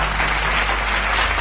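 A church congregation claps and applauds for Jesus in a steady, dense wash of clapping that fills the short moment evenly, with no voices standing out.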